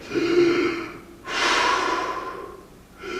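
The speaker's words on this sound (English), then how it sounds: "how about a little deep breathing?" A performer in Beckett's Waiting for Godot doing a deep breathing exercise on stage: a long, loud inhale, then a sharp gasping draw of air held for over a second, and the start of another breath, close to the microphone.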